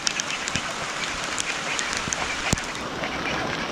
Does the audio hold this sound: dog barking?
no